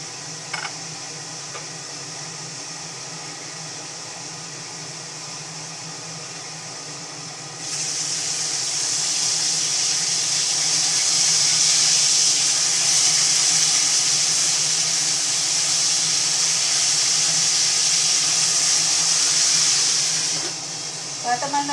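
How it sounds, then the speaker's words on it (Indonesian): Fish fries in oil in a covered pan, giving a steady loud hiss that swells sharply partway through and holds for over ten seconds before easing off. "kalau goreng ikan itu usahakan ditutup"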